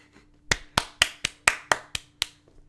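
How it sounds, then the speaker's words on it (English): One person clapping alone, eight sharp, evenly spaced claps in a steady rhythm, close and clear against a quiet background. "I'm the only one that clapped at that."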